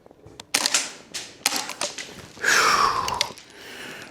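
WellPro PPK-20 gas blowback airsoft rifle firing a handful of sharp, close shots with mechanical clacks, low on gas, followed by a longer hissing burst of escaping gas.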